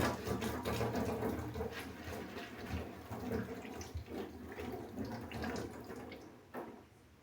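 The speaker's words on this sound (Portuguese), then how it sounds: "vou lavar essa panela" Tap water runs steadily for several seconds with faint clinks and splashes as a pot is rinsed in a sink.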